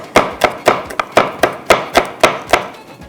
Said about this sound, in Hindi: इसको चॉप करके डालते हैं